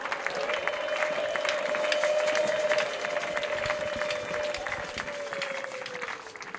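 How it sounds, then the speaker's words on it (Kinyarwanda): Congregation applauding during a Christian prayer service, a sustained, dense round of clapping from many people, with a held tone or voice-like drone running through it and the clapping slowly easing toward the end. "Hanyuma muri uyu mwanya wa nona tugukomeye amashyi."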